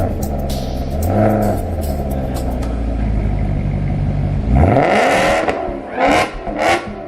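A Mk1 Golf engine with its exhaust valves closed idles with a deep steady rumble, then blips into a sharp rev that swells and falls, followed by two shorter throttle bursts, loud and close.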